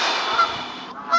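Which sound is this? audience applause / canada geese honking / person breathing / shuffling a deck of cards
canada geese honking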